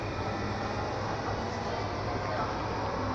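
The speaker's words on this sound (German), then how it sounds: "Dieser Zug fährt jetzt ab." A train pulls out of a station in Italy, giving a steady, loud broadband rumble of rolling wheels and rail noise that holds evenly throughout, with no distinct horn or announcement.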